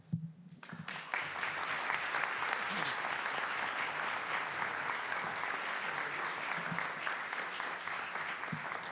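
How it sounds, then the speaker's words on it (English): An audience in a city council chamber breaks into steady, sustained applause honoring a student team, a dense wash of clapping that follows a brief spoken voice and continues evenly at moderate distance. "Let's give them all another round of applause,"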